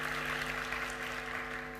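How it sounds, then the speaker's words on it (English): Steady round of applause from the audience at a TEDxDeadSea talk, a dense wash of clapping heard at a distance and fairly quietly, holding even for the whole stretch over a faint electrical hum. "Yes, it's a big round of applause"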